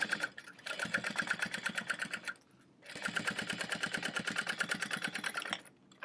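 A sewing machine stitches a crossbody bag with a 1/2 inch seam allowance, running in two steady rapid bursts with a brief pause between them. It is close, with no talking.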